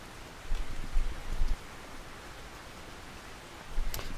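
Rain falls in the fishing video game Russian Fishing 4 at Mosquito Lake, a soft steady hiss at low level with a few brief louder rustles.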